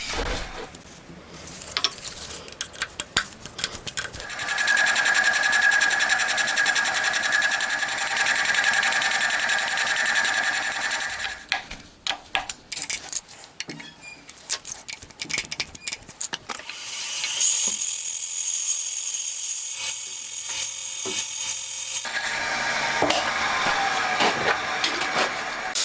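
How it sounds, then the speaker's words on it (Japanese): Machining work enlarging the central hole of a Honda Monkey engine part being converted to a 124.4cc four-cylinder; a loud steady high-pitched cutting whine runs for several seconds, then gives way to intermittent clatter and a second bright grinding burst. "中央の穴を拡大していきます。"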